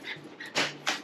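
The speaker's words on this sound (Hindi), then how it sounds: "अभी बाहर वाइपर को भौंक रहा था ये।" A dog giving two short, sharp barks or yips close by, with faint whimpering before them.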